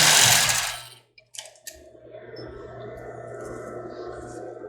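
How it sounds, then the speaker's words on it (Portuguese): A sewing machine backstitches at the end of a seam on a padded bra cup, starting with a burst of fabric rustle, a few short clicks, then a steady, moderately close mechanical hum that runs on to the end. "E no finalzinho dá um retrocesso novamente."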